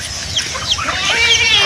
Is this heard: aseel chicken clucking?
yes